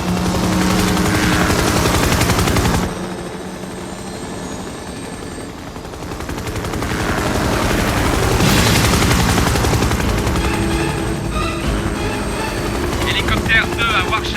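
A loud helicopter roars throughout, its rotor throb dipping briefly and then building again, with bursts of gunfire crackling over it near the end, in a French action science-fiction film.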